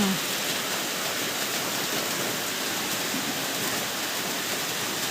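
Heavy rain pours steadily in a rural Thai setting during a storm, a dense, even hiss that stays loud and unbroken from start to finish.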